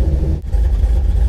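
A car engine running at idle in a shop after transmission repair, with a loud, steady close-up rumble and a brief dip partway through.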